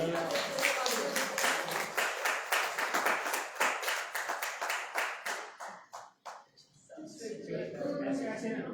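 An audience at a prize distribution breaks into loud, dense clapping that swells, thins out to a few scattered claps, then rises again into a full round of applause.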